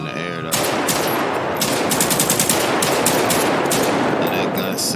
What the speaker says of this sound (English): Let that gun sound.